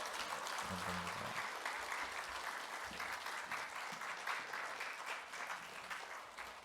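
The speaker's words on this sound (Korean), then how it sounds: "우리 한 번 더 격려로 박수 한번 해주시기 바랍니다" A church congregation gives sustained applause for graduating Sunday school students, a dense, even roll of many hands clapping that carries on steadily throughout, moderately distant and fairly quiet.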